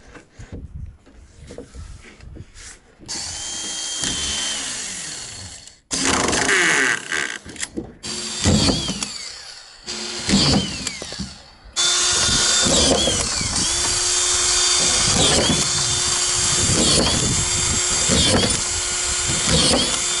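A screw gun drives collated screws into OSB roof sheathing on a house build, giving loud, close bursts of whirring and ratcheting with short pauses between screws, then a long, steady run of driving.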